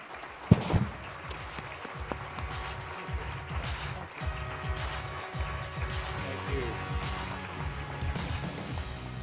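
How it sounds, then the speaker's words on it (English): Applause from the audience at the MassBio annual meeting for the Henri Termeer Innovative Leadership Award winner, steady clapping with a sharp bang early on and a rhythmic low thumping running underneath throughout. "how about a large round of applause"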